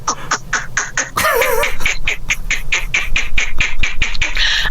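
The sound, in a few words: person imitating a weird animal noise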